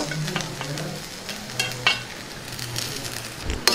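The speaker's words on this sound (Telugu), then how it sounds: "మొత్తాన్ని ఒకసారి కలుపుకుందాం." Cooked rice is stirred into a pan of mint fry, giving a gentle sizzle with scraping and clinking from the spoon against the pan. The sound is moderately quiet and close, with no talking.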